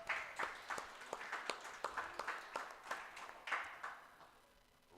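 Scattered, fairly faint handclaps from a small audience at a high school boys basketball showcase, a sparse round of individual claps rising and falling over a few seconds.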